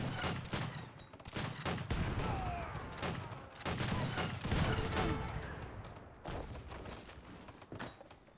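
Heavy cannon and falconets boom alongside crackling musket volleys in a large Age of Empires III battle, with irregular bursts of shots and thuds coming in rapid clusters, moderately distant and fairly quiet.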